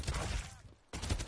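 Gunfire in the video game Rise of the Legend, a dense rattling fusillade that drops out briefly and then resumes, fairly faint with a muffled voice mixed in.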